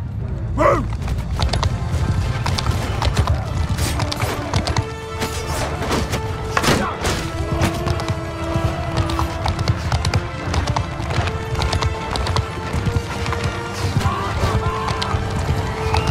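Cavalry horses gallop in a medieval battle video game, a steady dense clatter of many hooves with wooden creaks and an occasional whinny, loud and continuous.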